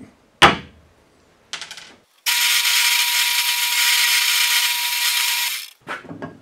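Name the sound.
power drill drilling dowel holes in wood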